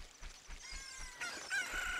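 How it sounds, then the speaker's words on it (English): Chicken sounds in the video game Ocarina of Time 3D, a few soft clucks followed by two short, higher squawks over quiet game ambience. "There's a fucking chicken right there."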